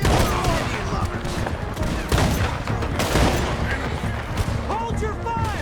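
Dense, crackling bursts of gunfire from a shootout in the video game Red Dead Redemption 2 fill the scene continuously, loud and close, with shouting voices mixed through the volleys.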